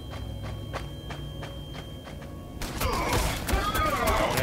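Gunfire bursts out in Warhammer 40,000: Sanctus Reach as Space Wolves terminators trade fire. Evenly spaced sharp shots repeat at a steady rhythm, then give way to a louder, dense volley of blasts and impacts.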